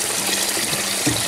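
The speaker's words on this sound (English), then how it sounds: "you just add water to the max seal line right there" Water pours steadily into a pressure cooker, filled to the max line, a continuous broadband gushing that runs the whole time with a slight surge near the end.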